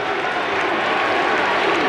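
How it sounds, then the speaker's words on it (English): A baseball crowd at Wrigley Field during a 1986 Cardinals at Cubs game roars steadily as fans rise to their feet, a dense, continuous wash of cheering and applause with no distinct voices. "The crowd is on its feet."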